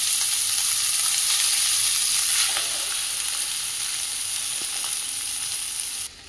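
Rice with turmeric sizzles steadily in a hot pan for lemon rice, a continuous close frying hiss that eases slightly partway through and cuts off at the end, with no talking.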